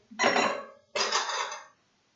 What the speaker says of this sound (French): Je compte les petites cuillères que je mets dans la boîte.